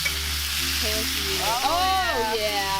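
Butter melting in a hot pan sizzles and fries steadily, a continuous crackling hiss close by, while voices talk and exclaim over it.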